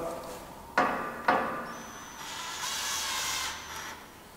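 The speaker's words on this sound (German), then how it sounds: "jetzt prügeln wir noch zur Sicherheit zwei Schrauben hochkant rein" Two sharp hammer blows drive screws edgewise into a wooden rocket stand for New Year's fireworks, struck about half a second apart, followed by a faint hissing rustle.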